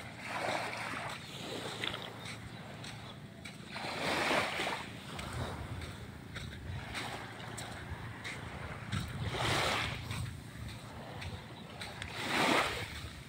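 Sea waves wash along the shore, swelling in broad surges every few seconds with a steady windy rush between them, close and moderately loud, no voices.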